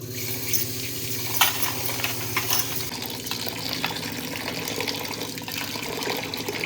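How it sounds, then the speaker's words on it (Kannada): Clean water splashes and runs steadily over raw turmeric being washed, a continuous close pouring and trickling with no talk. "ಅಷ್ಟು ಕ್ಲೀನಾಗಿ 1-2 ಸಲ ವಾಶ್ ಮಾಡಿಕೊಂಡು ಚೆನ್ನಾಗಿರೋ ನೀರು ಹಾಕ್ಕೊಳ್ಳೋಣ"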